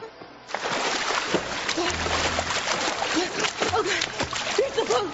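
A boat splashes and sloshes through open water in a steady, loud churn that runs almost the whole time, with faint voices mixed in underneath.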